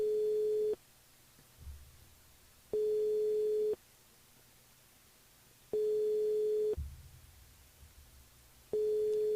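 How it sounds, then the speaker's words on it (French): A telephone line signal sounds as a phone call is placed: steady beeps of about one second repeat at regular intervals with quiet gaps between them and faint background noise, and no one speaks. "C'est parti, on appelle Evelyne."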